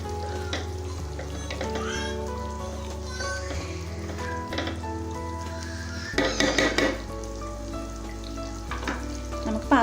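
Biryani masala with mint and coriander leaves frying in a pot for Hyderabadi chicken biryani, stirred and mixed with a utensil; steady sizzle under scraping and clinks against the pot, louder stirring near the end.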